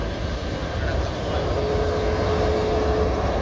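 An airliner at Dhaka airport, with a Saudi Airlines jet on the ground, gives a steady, moderately loud engine drone throughout, with a thin sustained whine rising partway through.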